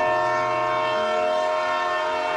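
A train leaving Malda station holds a continuous, loud horn for the whole stretch, a steady tonal blare over low rumbling from the rails and engine.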